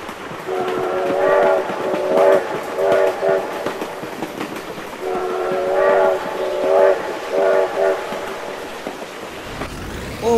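A train rolls past in a BeamNG-style driving game, its horn sounding in repeated long blasts over steady rumbling wheels, loud and close, with no talk.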